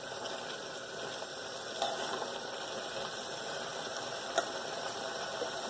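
Aloo gobi of cauliflower and potato cooking in a pan on high heat as its water dries out, giving a steady, faint hiss and sizzle with occasional tiny pops.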